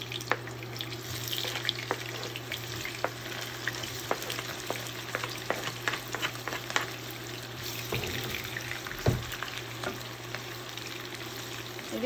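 Onions frying in oil in a pot for chicken biryani make a continuous sizzle with scattered crackles and a faint steady hum, fairly quiet and with no voices.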